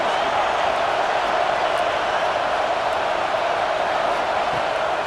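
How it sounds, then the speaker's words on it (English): A home crowd at a college football game roars in a steady, dense wash of cheering and noise, loud and sustained without any break. "how nice is it to have the home crowd going absolutely bananas?"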